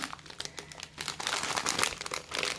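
Crinkly plastic candy wrapper rustling close up, softer at first and then louder and busier, with sharp crackles continuing throughout.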